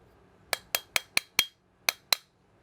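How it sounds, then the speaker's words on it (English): A hammer taps a pin into the frame of a CZ 75 pistol, seven sharp, close metallic strikes in a quick, slightly uneven rhythm, each ringing briefly before the next. "Now I'll just take my hammer and give it a few taps."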